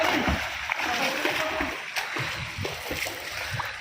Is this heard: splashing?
yes